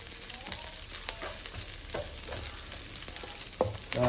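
Native chicken pieces frying with onions in a pan, a continuous close sizzle broken by scattered scrapes and clinks of stirring, no voices.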